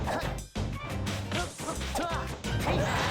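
A hard-hitting forward smash lands in a Super Smash Bros match between Sheik players, a loud crunchy impact amid busy game effects and crowd noise, with commentators talking over it.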